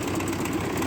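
A 1958 Oliver 550 diesel tractor engine idles with a steady, rough rumbling putter, close and continuous with no voices.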